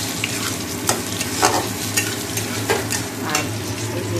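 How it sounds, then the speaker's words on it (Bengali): Potatoes and carrots frying in a pan with onion tempering for a Bengali chachchari give a steady sizzle, with a spatula scraping and stirring roughly every half second, close and with no talk. "আর এদিকে আলুটা পেঁয়াজ ফোড়ন দিয়ে ভাজছি।"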